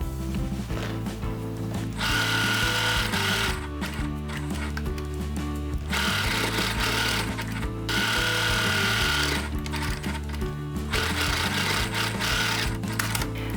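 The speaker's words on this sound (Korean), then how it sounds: "만들어진 주머니를 가방의 안쪽 면 그러니까 안감에다가 대고 살짝 봉제해서 고정을 시켜줄게요." A sewing machine stitches a fabric pocket onto a bag's lining in close, loud bursts of rapid mechanical whirring and clatter, with short pauses between runs and no talking.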